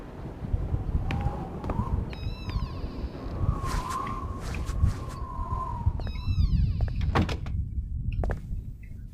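A bolted door rattles and thumps as it is tried in the Call of Cthulhu video game, a few short clunks set against a low, murky ambient game backdrop.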